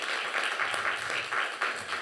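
Applause from an audience at a candidates forum for two guests, a continuous crowd patter with slight pulsing swells, moderately loud throughout.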